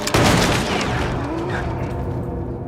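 Gunfire bursts in the Little Nightmares 2 video game, a loud booming blast at the start that rolls into a reverberant, fading rumble over a few seconds.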